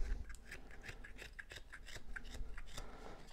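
Knife making shaving cuts while carving a wooden butter knife from a blank: close, quiet, rapid scraping strokes in a steady repeated rhythm, with no voices.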